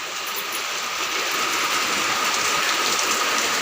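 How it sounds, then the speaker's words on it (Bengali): Heavy rain pours down outside a house, a dense, steady, loud hiss that holds without pause from start to finish, with no voices. "চলো তোমাদেরকে বাইরেটাও দেখাচ্ছি কেমন হারে বৃষ্টি এসেছে"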